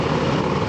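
An MH-60S Knighthawk helicopter flies a search-and-rescue demonstration at the NAS Patuxent River air show, a loud, steady, unbroken roar of rotor and engine.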